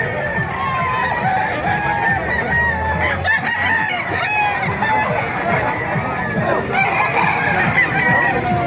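Many roosters crow over one another in Calumpit, Bulacan, amid constant clucking and a crowd's babble, a dense, busy din that never lets up.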